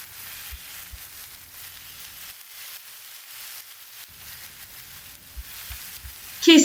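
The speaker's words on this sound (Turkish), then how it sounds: "Bir iki kere tersine çevirerek kızartıyorum." Steady, soft sizzling of tomatoes frying in a pan, a continuous hiss with a few faint bumps and a brief clatter at the end.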